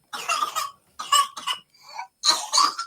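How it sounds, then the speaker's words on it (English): A baby coughs hard in several separate bursts, close and loud, with short gaps between fits and some harsh, throaty sounds in between. "Imagine that baby is coughing so hard it sounds as if she's about to throw up."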